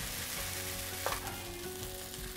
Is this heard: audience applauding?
no